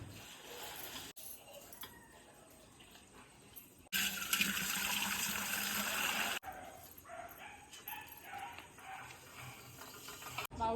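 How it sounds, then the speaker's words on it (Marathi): Water drawn by hand from a deep, rock-cut village well, with splashing and sloshing that swells loudly in the middle and stays fairly close throughout. "आमका आता विहिरीतून पाणी नेऊचा लागता"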